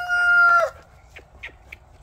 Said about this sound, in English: look at the rooster. He's crowing up there.